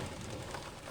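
Steady rain falls on the water during a fishing trip, a broad, even hiss that is moderately loud and continuous throughout, with no voices.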